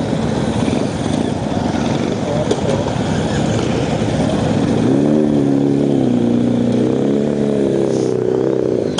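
Motorcycles, including a Triumph Speed Triple, roll in close by with a loud, continuous engine rumble, and a steady droning tone rises and wavers as they pull up, with no clear voices.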